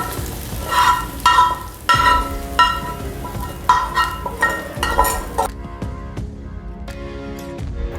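Fried onions with their oil go into a pot of pulao rice, bringing a short burst of sizzling, stirring and clinking metal on the pot, then the sound falls quiet near the end.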